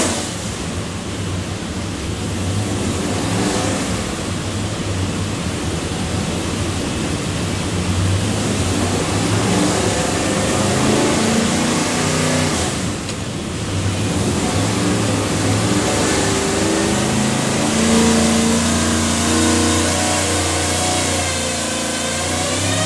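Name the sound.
Whipple supercharged 427ci LS engine dyno run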